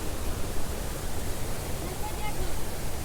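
Water pours through a dam in a steady, dense rushing roar that stays even and unbroken throughout.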